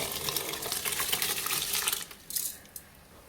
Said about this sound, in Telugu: నానబెట్టిన రైస్ అయితే వేసేసి వేసాను